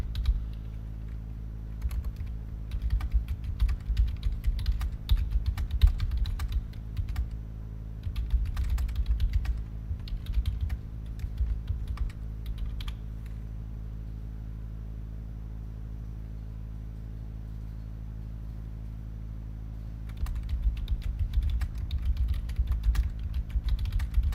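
Computer keyboard typing comes in scattered bursts of quick clicks with quiet gaps between, over a steady low rumble and hum.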